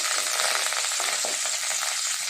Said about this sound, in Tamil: கடலைப்பருப்பு வந்து லைட்டாக இங்கே பாருங்கள் பொரியுது.